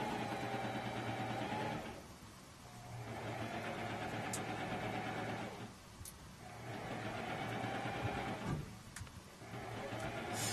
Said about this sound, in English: So that's Virginia with her sewing going on there